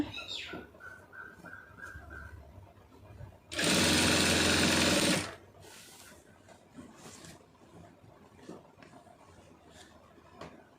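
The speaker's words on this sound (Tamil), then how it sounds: "ஃபால்ஸில் கரெக்டாக ஒட்டில் போட்டுருங்க தையல் வந்து ரெண்டு துணியும் வந்து சேர்ந்துருக்கணும்" A sewing machine stitching a fall onto a saree, running in one fast, steady whirr for about two seconds in an otherwise quiet room.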